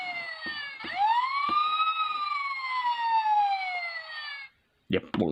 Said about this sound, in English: Yep, long siren.